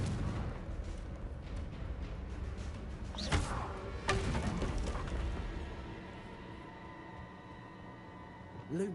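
Confringo fire spell cast in Hogwarts Legacy, with a sharp blast and a second booming burst over dense game ambience and rumble, then a quieter trailing hum.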